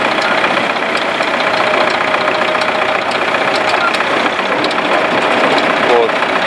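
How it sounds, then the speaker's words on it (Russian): A tractor engine idles steadily close by during potato unloading from a Grimme harvester, a constant mid-pitched rumble with a slight knocking beat throughout. "Трактор по мере необходимости перемещается"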